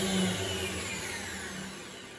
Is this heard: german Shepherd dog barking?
no